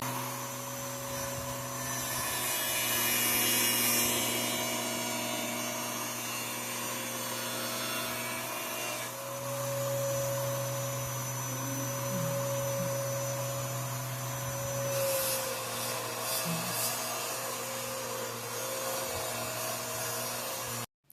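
A Bear and Son Peanut pocketknife being polished on a buffing wheel, the buffer's steady motor hum and whine running throughout with louder rubbing swells as the knife is pressed to the wheel, close, with no talking.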